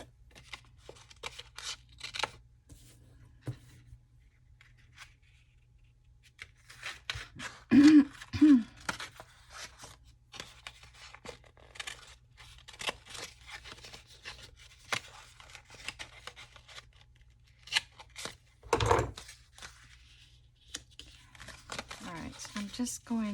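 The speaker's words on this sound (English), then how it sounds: "I'm gonna cut it up to here." Paper being cut and handled for a craft postcard, faint snipping, rustling and crinkling in scattered bursts, with a louder tear-like sweep near the end, over a low hum.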